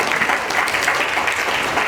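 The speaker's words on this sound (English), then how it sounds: "Can we give him a round of applause?" Loud, dense applause from the audience at a crusade event, many people clapping steadily together for the whole stretch without speech on top.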